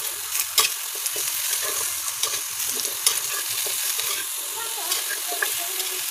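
Food sizzles in a hot frying pan as it is stirred, giving a continuous bright hiss broken by repeated scraping and clinking of the utensil, close and steady.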